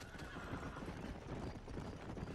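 Horses in the Red Dead Redemption video game, with hooves clattering at a gallop and several neighs and whinnies over a dense, noisy background of steady game sound.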